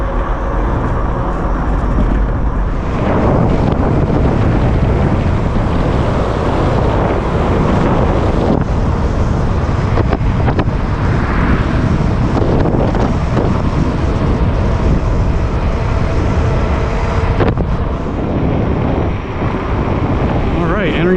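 Heavy, continuous wind buffeting roars across the microphone while riding a Velotric Nomad 2 electric bike at about 23 to 25 mph on a trail in Promised Land State Park, loud and unbroken, with a voice faintly beneath it.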